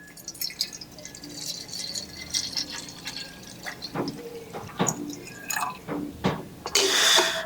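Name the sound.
pouring water into a coffee maker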